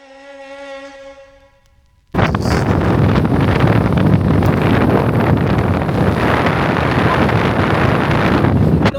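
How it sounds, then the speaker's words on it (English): Strong wind buffets the microphone outdoors in Mallorca in a continuous loud roar after a brief tonal hum at the start. "It's too windy."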